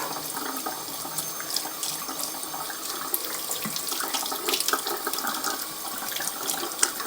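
Running tap water pours steadily into a sink as a makeup brush is rinsed under it, a continuous close splashing hiss with small bursts and changes in the flow.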